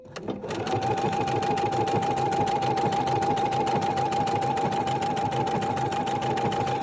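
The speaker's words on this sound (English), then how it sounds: "One more time, I'm going to sew back the way I started." A sewing machine stitching a fabric patch in reverse, its needle hammering in a fast, steady, loud mechanical rhythm with a constant whine, running nonstop after a brief start-up.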